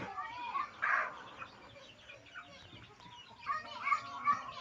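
Chickens and newly hatched chicks cluck and peep in short bursts close by, with a few louder calls near the start and end, over low background noise.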